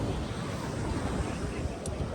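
Steady roar of Pacific surf and wind at a California shoreline, a continuous broadband wash without distinct individual breaks, loud and close.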